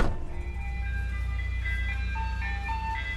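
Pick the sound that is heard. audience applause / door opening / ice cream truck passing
ice cream truck passing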